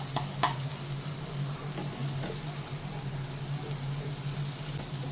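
Spice powders for a chicken roast sauté in a pan with wilted onions, making a faint, steady sizzle broken by a few brief crackles near the start, with no talk.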